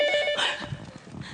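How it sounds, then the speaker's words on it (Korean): A telephone rings with a short electronic tone that sounds briefly and then fades, fairly faint and alone. "장수야, 엄마 인차 간다는데 어째 자꾸 전화하니?"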